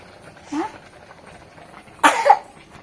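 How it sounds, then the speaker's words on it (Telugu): A child gives a short cough, then a louder, harsher cough about a second and a half later, close by in a quiet home; no talking. "దగ్గు దగ్గునా"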